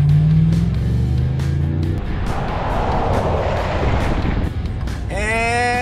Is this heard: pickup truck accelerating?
yes